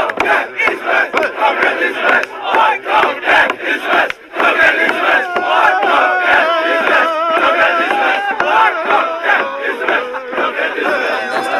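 Dense crowd shouting and chanting at a rally, a loud continuous roar of many overlapping voices with rising cries and surges throughout, close and busy.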